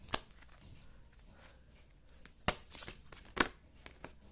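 Tarot cards being shuffled at a reading, soft quiet riffles and flicks with a couple of sharper snaps near the end, close and alone without talk.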